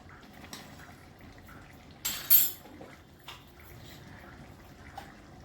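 A lid set down onto a cooking pot of prawn curry gives a short metallic clatter in the middle, with faint clinks and soft bubbling around it.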